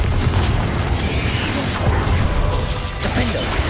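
Confringo fire spells go off in the Hogwarts Legacy video game as loud, dense, continuous booming and crashing blasts that keep up without a break, close and heavy in the low end.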